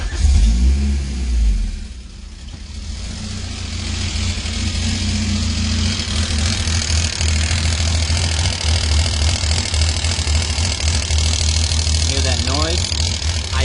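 Drivetrain noise from a 1987 Pontiac Fiero GT with a Honda K20 engine swap, heard from inside as a steady droning whine under the engine and road rumble while driving.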